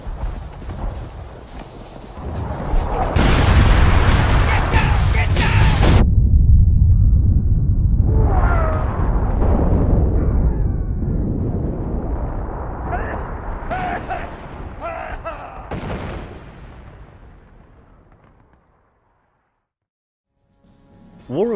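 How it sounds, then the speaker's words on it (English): Artillery fire in the Civil War video game War of Rights: deep booming blasts and rumbling explosions roll through a loud battlefield mix, with shouting voices in between before the din fades out. "Incoming artillery!"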